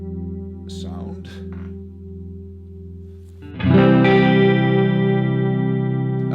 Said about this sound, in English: going back to a chorus sound